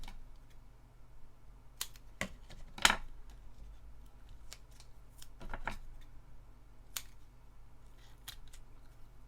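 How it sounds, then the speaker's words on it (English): Foam tape for a scrapbook layout is cut with scissors, making a few sharp, quiet snips and small clicks scattered over a faint steady background hum, close-up and sparse. "I'm going to put some foam tape"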